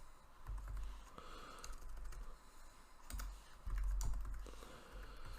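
Quiet keystrokes on a computer keyboard as a password is typed, short clusters of soft taps with brief pauses between them.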